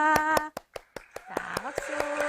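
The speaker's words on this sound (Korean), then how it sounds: "우리 모두 서로에게 박수 쳐줍시다" A few sharp hand claps ring out during an online middle-school Korean lesson, scattered irregularly among a voice and tonal sounds.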